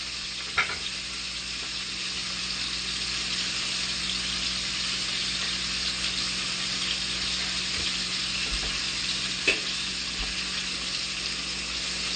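Marinated bulgogi frying in a pan, a steady close sizzle that continues throughout with a couple of faint clicks, no voices.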